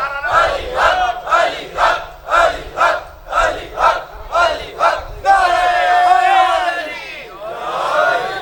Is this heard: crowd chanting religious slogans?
yes